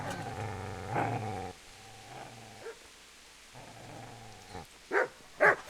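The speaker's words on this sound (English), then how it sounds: "Get away, you mutt!" A dog in the medieval role-playing game Kingdom Come: Deliverance growls low and rumbling, then falls quiet before two short, loud barks or yelps close up near the end.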